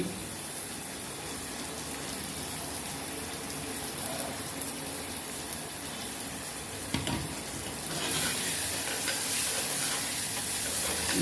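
Onions and green chilies sauté in a pan for a Tirunelveli paruppu urundai kuzhambu, a steady close sizzle with occasional stirring scrapes that grows slightly louder near the end.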